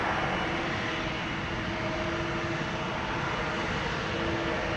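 A KLM airliner departing Amsterdam Schiphol Airport, a loud steady broadband engine roar with a faint tonal whine, sustained throughout with no voices.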